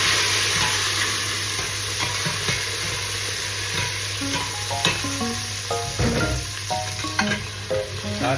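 Tomatoes go into a pan of sautéing onions for a Filipino guisado, giving a loud continuous sizzle with clattering stirring strokes growing more frequent toward the end.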